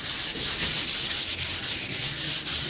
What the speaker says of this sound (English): 240 grade aluminium oxide paper, just to give it a light rub down